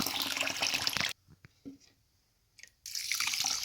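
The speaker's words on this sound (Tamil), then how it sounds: "ரைஸை நல்லா வாஷ் பண்ணி ஒரு 5 நிமிஷம் தண்ணி ஊற்றி வச்சிடலாம்" Running water splashes and trickles loudly as rice is rinsed, stops for a moment with a few small clinks and drips, then the water rushes again.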